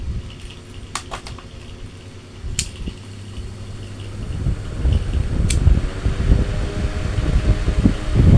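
A repaired electric kipas angin fan runs steadily close by, a broad whooshing airflow hum that swells louder over the last few seconds, with a few clicks and taps early on.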